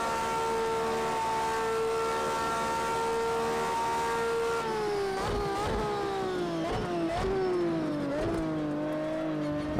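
A V12 race car engine in the racing game Project Cars 2 holds a high steady wail, then drops and climbs repeatedly through downshifts and throttle blips, loud and continuous.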